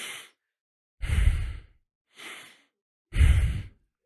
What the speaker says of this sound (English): start with square breathing